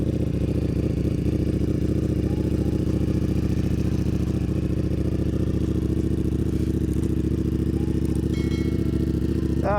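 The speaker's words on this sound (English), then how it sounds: "Panigale V4 cold start" Ducati Panigale V4 superbike starting cold, its engine settling into a loud, steady, throaty idle close by, with a brief higher whine near the end.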